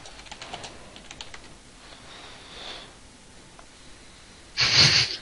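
A few quick keystrokes tapped on a computer keyboard during a Team Fortress 2 session, light and sparse, then a pause filled by faint breathing, before a loud, short burst of noise near the end.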